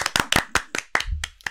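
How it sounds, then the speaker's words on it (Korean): A handful of people clap in sharp, uneven bursts, about nine close claps over a second and a half, with a low murmur of voices briefly underneath near the end. "박수!"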